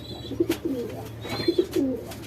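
Soft, low pigeon coos repeat in short rounded phrases, close by, with a few faint higher chirps in the background.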